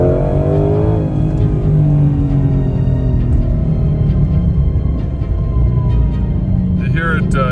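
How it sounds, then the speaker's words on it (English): A 2020–2022 Shelby GT500 with a VMP Apex Predator supercharger lid on the original pulley revs loudly and steadily, a deep engine roar with a rising supercharger whine layered over it, heard up close throughout. "I was surprised at the amount of supercharger noise you hear with the different lid."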